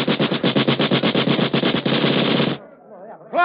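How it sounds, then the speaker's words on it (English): Close, loud machine gun fire in a radio drama: a rapid, even burst of about twenty sharp shots lasting over two seconds, then a brief stop with a low rumble afterward. "Salvador, bring that machine gun"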